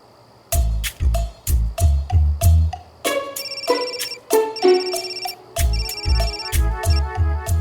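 A phone ringtone plays loud and close in a repeating electronic melody of bright bell-like tones with short pauses, marking repeated incoming calls; no one speaks.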